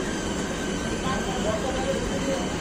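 A Sealdah–Laxmikantapur local train rolls into Baghajatin station in the rain, a steady, enveloping rumble and hiss of wheels and carriages close by, with voices faintly underneath.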